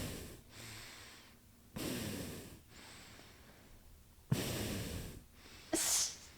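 Loud, exaggerated heavy breathing comes in several forceful, close bursts of huffing and snorting air, separated by quieter pauses.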